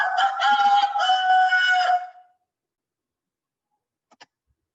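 A human voice imitates a domestic rooster's crow in a loud, close, two-second call that rises and sustains before trailing off, followed by silence and a short faint click near the end.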